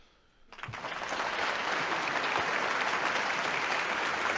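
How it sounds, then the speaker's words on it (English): A canned applause clap track on a live stream swells in after a quiet start and holds as a steady, dense wash of clapping and cheering. "See, we even get the clap track and everything."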